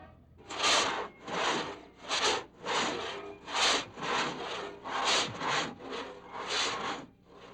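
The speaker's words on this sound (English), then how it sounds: "So for now, a cross-cut saw must suffice." A cross-cut saw is pulled by hand through hard dead-tree lumber in China, with steady rhythmic rasping strokes about one per half second, loud and close, with no other sounds.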